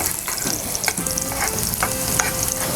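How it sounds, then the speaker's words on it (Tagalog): Garlic sautés in a pan for a Filipino pancit bihon noodle dish, with a steady, loud sizzle and a few scraping stirs throughout. "we'll have our garlic saute"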